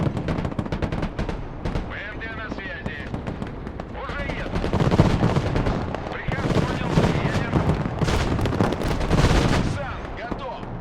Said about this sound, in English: These are all being pinned down by the machine gun.